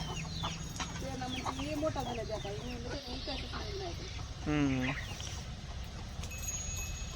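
A hen clucks in short, repeated bursts at a village bird seller's place, mid-distance and moderately faint, while people talk nearby over a steady background hiss.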